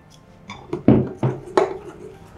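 A spoon stirring rujak Aceh fruit salad with mango, passion fruit and syrup in a bowl, heard as a handful of close, distinct clinks and scrapes in an irregular rhythm, with no talking.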